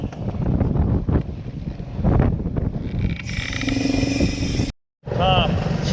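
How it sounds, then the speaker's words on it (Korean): Strong, typhoon-force wind buffets the microphone on a fishing boat at sea in heavy waves, a loud continuous roar with an engine-like hum, while someone talks throughout. "파도가 너무 많이 쳐가지고 바람도 많이 불고 파도가 너무 많이 쳐가지고"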